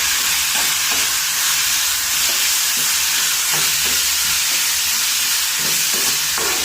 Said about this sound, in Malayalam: ഒന്നുകൂടെ ഇളക്കി യോജിപ്പിക്കാം